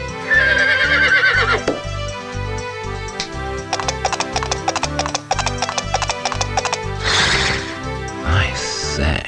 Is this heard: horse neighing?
yes